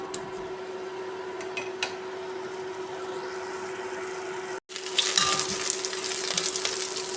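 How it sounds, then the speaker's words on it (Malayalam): Garlic and bay leaves sauté in a pan with onion, green chili and curry leaves, a steady close sizzle with light stirring that briefly cuts out, then returns louder and brighter. "വെളുത്തുള്ളി, ബേ ലീവ്സ് കൂടി ഇട്ടിട്ടുണ്ട്. നമുക്ക് നന്നായി വഴറ്റിയെടുക്കാം."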